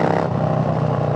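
A 2019 Harley-Davidson FXLR Low Rider with a Bassani exhaust and stage 1 setup rumbles loud and close under throttle, a continuous deep throbbing engine note with no pauses.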